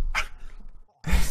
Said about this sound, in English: Ah, dogs. Bark.